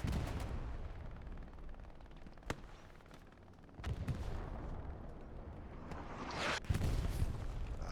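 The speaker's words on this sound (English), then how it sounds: "Artillery coming down now." Artillery fire in the Hell Let Loose multiplayer battle: distant booms and sharp cracks spread through steady combat noise, with a louder burst and heavy rumble toward the end.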